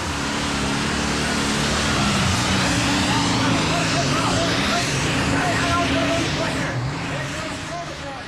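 A water-injected diesel pulling tractor roars at full power during a 12-second run, a loud, dense engine blare that holds steady, then eases slightly at the end while a narrator talks over it.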